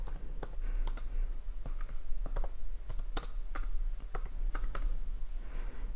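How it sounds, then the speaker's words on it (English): Keys on a computer keyboard clatter in quick, uneven bursts as a date is typed into a spreadsheet, close and fairly quiet over a low steady background hum. "you're going to type in the date that you're doing your log"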